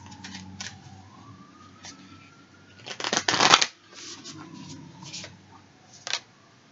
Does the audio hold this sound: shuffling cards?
yes